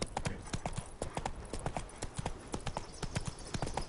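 Horse hooves clip-clop in the Witcher 3 video game, a brisk, even trot of sharp, close hoofbeats that continues without a break and no talking over it.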